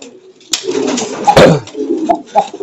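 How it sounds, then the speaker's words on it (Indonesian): Young pigeon squabs coo close by in soft, repeated throaty calls, with a few sharper bursts along the way. "Nah, ini merpatinya, teman-teman."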